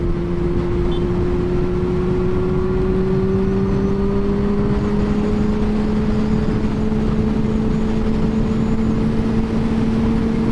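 A Yamaha FZ6 600 four-cylinder motorcycle on the road gives a steady, loud engine drone whose pitch slowly rises, mixed with constant wind rush and no talk.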